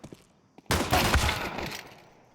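Gunfire in a Counter-Strike match on the Ancient map, a sudden dense burst of rapid shots that erupts after a quiet moment and rattles on for over a second before tailing off.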